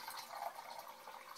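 Warm water pours steadily into a 2-cup measuring cup in a home kitchen, a soft continuous trickle and splash heard faintly and alone.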